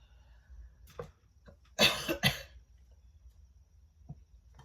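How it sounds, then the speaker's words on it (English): Two loud, harsh coughs close together, close to the listener, followed by quiet room noise and a faint click. "So sorry to cough."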